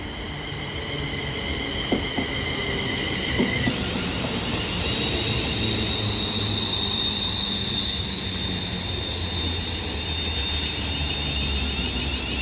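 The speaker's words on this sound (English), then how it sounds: "another London North Western Railway Class 350-2 arriving into Longport now." A London Northwestern Railway Class 350 electric train arrives at Longport station on the West Coast Main Line Manchester branch, with a continuous low rumble and a thin whine that fades over about twelve seconds.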